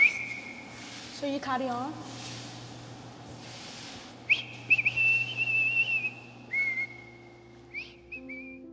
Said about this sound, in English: Will you please stop whistling?